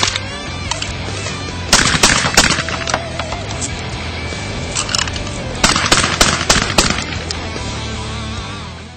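Beretta Extrema 2 shotgun firing in two loud bursts of sharp reports, each with several shots close together, then echoing away over a noisy outdoor background.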